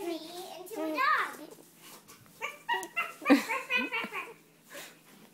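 A young child imitates a dog, giving a series of high yelping barks and whimpering yips, some close and loud, with breathy gaps between them.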